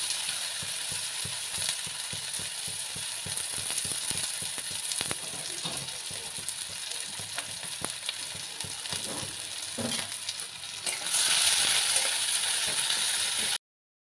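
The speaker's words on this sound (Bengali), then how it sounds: "আমি তরকারিটার জন্য প্রথমে একটা পেঁয়াজ এটা ভালো করে সুন্দর করে ভেজে তুলে নেব।" Onion frying in a pan for a taro-seed curry, a steady close sizzle with scattered clinks of stirring, growing louder and brighter near the end before cutting off.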